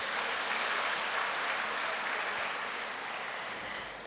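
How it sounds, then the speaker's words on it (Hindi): A large seated audience at a spiritual talk claps together in a dense, steady wave of applause that holds level for several seconds and then slowly thins toward the end, with no voices over it. "अपने लिए ताली बजाओ"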